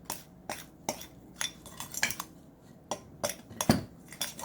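A utensil scrapes and taps leftover yogurt out of a container, a rapid series of close clinks and scrapes in an irregular rhythm.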